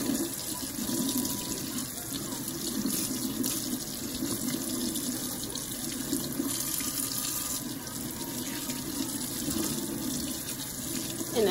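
Warm tap water runs steadily into a sink while make-up brushes are being cleaned, a constant splashing stream with a low hollow tone, fairly close and alone, with small shifts as the flow is disturbed.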